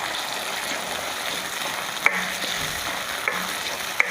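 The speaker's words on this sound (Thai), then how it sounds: "ผัดพริกแกงกับปลากระป๋องให้หอมเลยค่ะ" Curry paste and canned fish stir-fry in a hot pan with eggplant, giving a steady close sizzle and a few sharp scrapes of the spatula.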